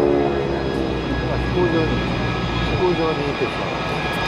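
GEICO Skytypers aircraft pass over an airshow with a loud, sustained engine drone and a propeller tone, heard under an announcer's steady commentary.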